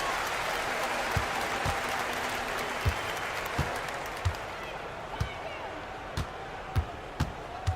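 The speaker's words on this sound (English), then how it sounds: "the crowd loving every second of it" Home crowd in a Euroleague basketball video game cheers and applauds steadily after a victory, a dense wash of noise with sharp thumps of bouncing balls or slams punctuating it, as a commentator talks over the top.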